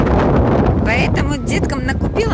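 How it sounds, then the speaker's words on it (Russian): Low, rumbling wind buffeting the microphone throughout, with someone talking over it. "Ой, ветер, не знаю, будет слышно вам или нет"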